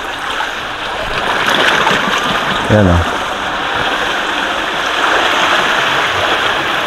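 Steady rushing sea water in Negros Occidental fills the scene, a broad wash of surf noise, with a brief voice speaking partway through.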